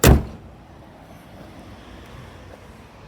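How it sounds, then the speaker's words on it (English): A 2013 Holden VF Commodore SSV bonnet shuts gently with one solid thud, followed by quiet outdoor ambience. "Close that bonnet gently."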